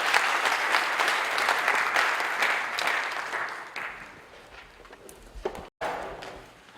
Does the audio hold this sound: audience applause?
yes